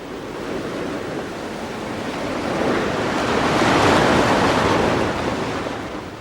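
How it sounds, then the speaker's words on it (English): Surf washes onto a shore in a broad, rushing swell that builds louder toward the middle and slowly recedes, with wind noise throughout. "I could make out the overtones of the waves ebbing and flowing on the shore."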